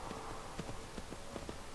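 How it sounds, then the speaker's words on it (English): In the video game Skyrim, a horse's hooves clip-clop at a walking pace, about eight light, evenly spaced hoof falls, faint and somewhat distant against a steady hiss of wind-like ambience. "We have a horse."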